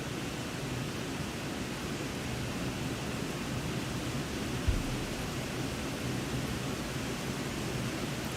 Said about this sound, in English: No way, you can hear the rain.